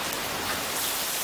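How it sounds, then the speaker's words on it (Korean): Steady rain falls and patters on surfaces while someone on an electric scooter ride shelters under a bridge, a constant dense hiss with no voices. "비가 와서 이렇게 다리 밑에서 이렇게"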